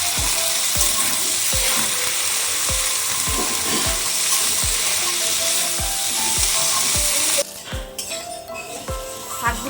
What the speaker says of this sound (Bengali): যেহেতু অনেকটা আলু তো ওই জন্য আমি ভেজেই নিচ্ছি